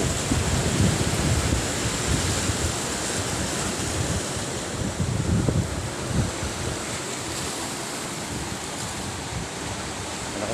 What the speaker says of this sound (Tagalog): Malakas po ang alon ngayon.